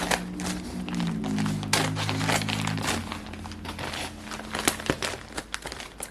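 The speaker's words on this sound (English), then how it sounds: "I've got some scissors here, and I'm just going to" Scissors cutting into and opening a large plastic package, with close crinkling, rustling and crackling of the plastic, then a few sharp taps and snips near the end.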